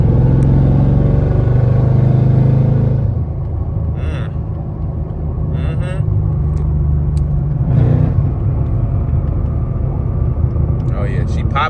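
A Ford Mustang S650 fitted with a Whipple supercharger rumbles steadily from inside the cabin, loud and continuous, with brief pops and crackles mixed in as it drives.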